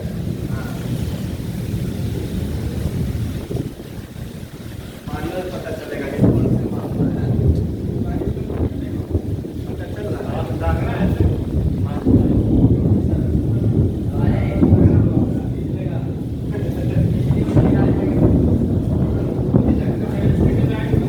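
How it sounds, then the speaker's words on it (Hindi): Continuous rain with low, rolling rumbles of thunder from rain clouds, a dense wash of sound that swells and fades over the length, fairly loud and without speech. "बारिश के समय में बादल कैसे गरजता है, उस साउंड को सुनाते हैं आप लोगों को"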